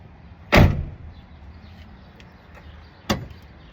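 The rear door of a Ford F350 extended cab, just repaired after refusing to open, makes two close, loud clunks a few seconds apart: first as the latch releases, then as the door shuts.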